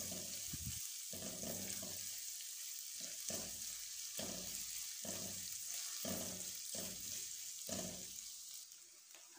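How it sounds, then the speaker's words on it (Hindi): Garlic and ginger paste fries gently in a pan with a steady soft sizzle, broken by regular rhythmic stirring strokes that briefly thicken the sound, close but quiet. "अब हम इसमें डालेंगे 1 टेबल स्पून लहसुन पेस्ट, हाफ़ टेबल स्पून अदरक पेस्ट और इसको हल्का हल्का फ्राई करेंगे"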